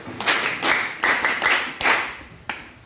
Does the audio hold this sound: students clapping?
yes